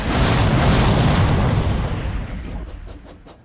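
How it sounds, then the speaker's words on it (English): A train blows up in a Roblox game after an American P-40 fighter plane shoots at it before it reaches a tunnel: a loud, roaring explosion that fills the sound and slowly fades into a rumbling tail. "American P-40 shot at Nazis' train before it reaches tunnel. Then it explodes."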